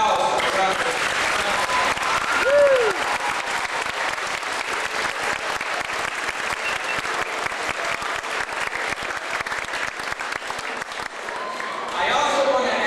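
A school audience claps in steady, dense applause for the full length, fading slightly near the end, with a short whistle-like tone early on.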